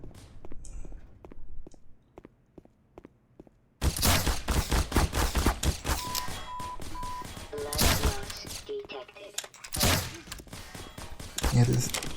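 Enemy gunfire in the video game Black Mesa: after a quieter stretch of scattered single shots, a loud sustained burst of rapid shots and impacts erupts and keeps going, with heavier blasts near the end.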